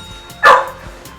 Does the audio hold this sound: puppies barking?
yes